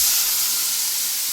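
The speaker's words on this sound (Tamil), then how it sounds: "தண்ணி ஊத்துங்க" Water poured into a hot pan of egg rice hisses and sizzles loudly and close, a steady bright steam burst that fades a little toward the end, with no talk.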